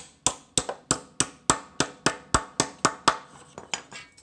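A hammer flattening a sheet metal drive cleat on HVAC duct, about a dozen sharp metallic strikes in a steady, fairly quick rhythm, close and loud, with a few lighter taps near the end.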